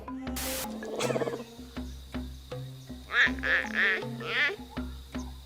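A series of odd, nasal meows and mews from a clouded leopard, interrupted by short clicking and squeaky sounds, fairly close.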